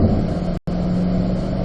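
Corvette accelerating hard out of turn 2 on a Las Vegas track and shifting toward fifth gear, a loud close engine roar with a brief cut at a gear change.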